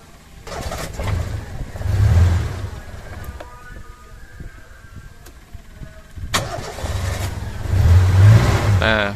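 A Suzuki Espass fitted with a JCK TCI ignition unit cranks briefly and catches, revving up, settles into a lower rumble, then is cranked and revved again, loud and close.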